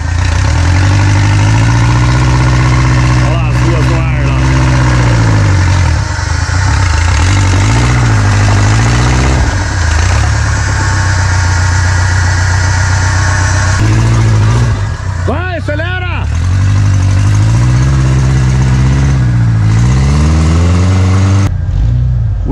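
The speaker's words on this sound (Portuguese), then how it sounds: "Motor!" A Jeep Willys engine working hard on an off-road trail, loud and close, with a deep sustained drone that swells and dips through repeated revs, under shouting and talk from people nearby.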